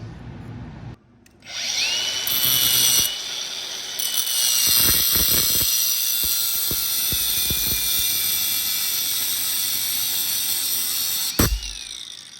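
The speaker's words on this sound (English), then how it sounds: "Hercules angle grinder because I don't overpay for tools" A Hercules angle grinder spins up in a workshop and runs continuously for around ten seconds with a loud, steady high-pitched whine, broken by a few short knocks and clanks near the start, then winds down.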